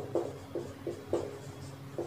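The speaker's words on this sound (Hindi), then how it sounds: "इधर हम लिखते हैं" Writing on a board during a Sanskrit grammar lesson, five short scratchy strokes in uneven rhythm, close and fairly quiet, with no talking.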